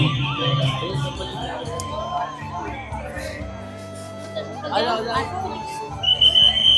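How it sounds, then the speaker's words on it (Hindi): Visitors throng Nidhivan temple in Vrindavan, their chatter and babble forming a dense hubbub with nearer voices talking over it. "देखो इतनी भीड़ है, इतनी भीड़ है।"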